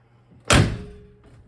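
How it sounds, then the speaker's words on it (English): A car door swings shut with a single solid thunk, close and fairly loud, followed by a short fading rattle and a faint soft knock afterward in an otherwise quiet setting. "Close the door."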